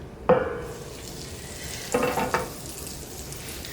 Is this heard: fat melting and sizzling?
yes